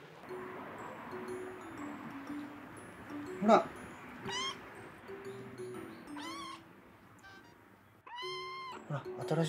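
Kittens meowing several times in short, rising calls, close and fairly loud, amid quiet rustling around a homemade litter box house.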